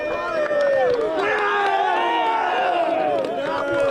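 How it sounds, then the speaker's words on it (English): A crowd at a player-of-the-week presentation cheers and shouts in a dense, lively burst, with clapping mixed into the voices. "A little bit of a round of applause would be good."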